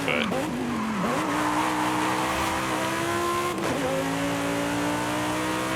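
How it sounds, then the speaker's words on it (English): Car in Forza Horizon 5 smokes its tires, the engine revving hard over sustained tire squeal and skidding, loud and continuous, with pitch dips as it shifts. "just taking one of these out and smoking the tires everywhere you go"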